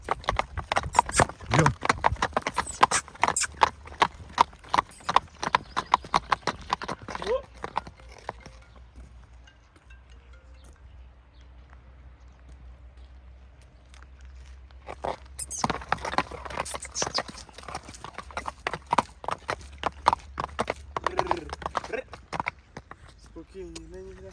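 Horse hooves clop and patter in irregular bursts nearby, falling quiet midway before starting up again.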